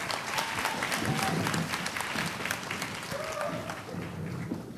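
Audience applause at a department store's 84th anniversary ceremony ahead of an in-house band performance, a sustained crowd clapping with scattered individual claps standing out and faint murmurs underneath.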